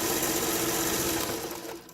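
A sewing machine runs steadily as it stitches a seam through fabric, a loud, even mechanical chatter that holds for most of the stretch and then fades slightly near the end, with no talking.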